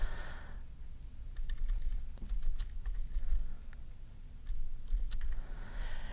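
Rapid typing on a computer keyboard while writing Java code, a steady flurry of close, crisp key clicks in irregular bursts with brief pauses, no talking.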